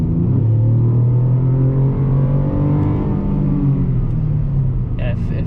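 A Chevy Colorado pickup with a cold air intake and sport-mode throttle accelerates under load, a loud steady engine drone and rumble rising smoothly in pitch throughout, heard from inside the cab.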